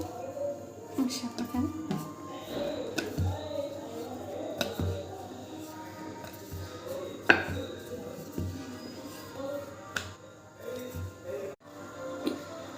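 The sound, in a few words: knife cutting rolled wheat-flour dough into shankarpali pieces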